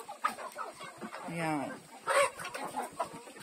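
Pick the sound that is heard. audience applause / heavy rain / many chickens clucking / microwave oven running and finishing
many chickens clucking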